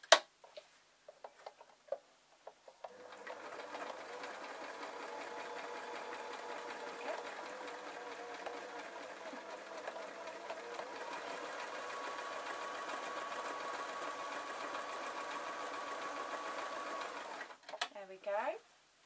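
Sewing machine stitching a ballet shrug upcycled from a stretchy tee shirt, a steady close rapid whirring run of about fifteen seconds, preceded by a few clicks and handling sounds.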